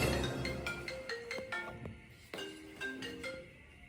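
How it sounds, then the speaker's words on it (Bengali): A mobile phone rings with an incoming call, a melodic electronic ringtone playing a repeating tune at moderate volume in a room, with no voices over it. "তোমার কল আসছে"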